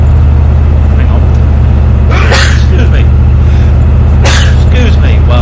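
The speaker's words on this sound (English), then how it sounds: "Excuse me. Well, sneezing." A person sneezes twice, in two sharp, loud bursts a couple of seconds apart, over a steady low engine drone from a truck during an Arma life-sim game session.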